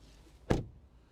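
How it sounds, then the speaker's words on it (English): An MG4 car door swings shut with a single short, moderately loud thunk, a brief impact that fades quickly into quiet cabin surroundings. "Let's do the door thunk"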